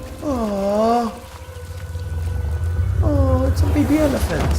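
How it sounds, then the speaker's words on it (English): Baby elephant calling in Uncharted: The Lost Legacy, two wavering trumpeting calls a couple of seconds apart, close and clear, with game ambience and a brief voice. "oh, it's a baby elephant"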